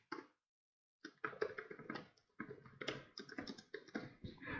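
Rapid typing on a computer keyboard: clusters of sharp, close clicks in uneven bursts, with a short silent pause near the start and brief gaps between runs of keystrokes.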